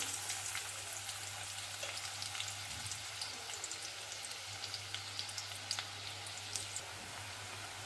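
Oil heats in a kadai before onions go in, giving a faint, continuous fine sizzle with light scattered crackles and a low steady hum underneath, with no talking.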